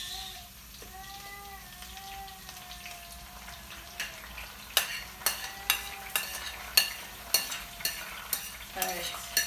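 Green peppers and onions frying in a pan with palm oil for ayamase sauce, a soft steady sizzle, then sharp spoon-on-pan scrapes and clacks as the vegetables are stirred in a rhythmic series near the end.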